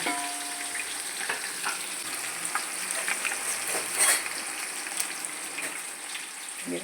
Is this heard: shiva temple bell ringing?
no